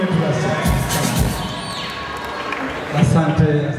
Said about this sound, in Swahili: piga makofi na vigeregere kwa ajili ya mgeni wetu sasa